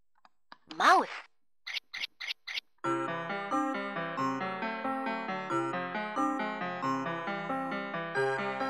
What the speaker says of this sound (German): Maus.